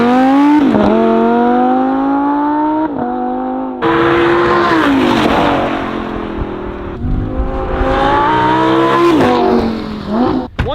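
A Viper sports car revs hard and accelerates through a lap on track, its engine note climbing loud and close through several gear changes, with brief dips between shifts.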